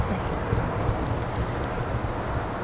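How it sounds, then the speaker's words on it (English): Steady rain falls outside, a continuous even hiss of drops with no pauses, moderately loud and unbroken, with no voices. "sorry about the rain outside"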